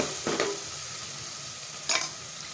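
Black chana curry ingredients with salt fry steadily in a pan, a continuous soft sizzle broken by two brief scraping stirs, close and moderately quiet with no voices.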